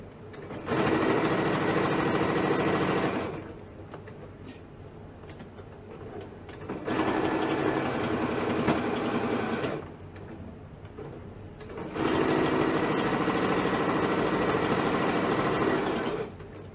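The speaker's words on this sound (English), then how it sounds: "I would stick a heavy-duty needle on there if it seemed to be having trouble" A sewing machine stitches a baby rag quilt in three steady whirring runs of about three seconds each, separated by short quiet pauses.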